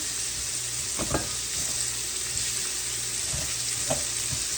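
Food sizzles and fries steadily in a skillet for a coconut fish dish, browning and caramelizing, with a few soft clicks of stirring or utensil taps over the constant crackle.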